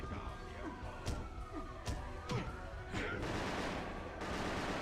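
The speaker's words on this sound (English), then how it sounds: "I'm getting shot at" Bursts of gunfire ring out in the Batman: Dark Tomorrow video game, a cluster of sharp shots followed by a longer wash of sustained fire, quiet and low in the mix.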